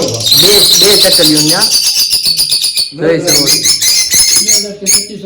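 Small caged pet birds, a pair of sparrow-like finches at a mini zoo bird house, chirp loudly and close in quick repeated trills and tweets with brief pauses.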